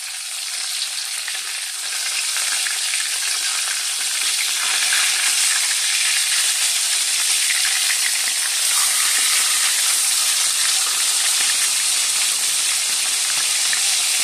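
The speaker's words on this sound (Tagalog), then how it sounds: "So, tingnan na natin ang ating piniprito mga kaguro." Tilapia frying in a hot pan gives a loud, steady, dense sizzle that runs unbroken throughout with no talking.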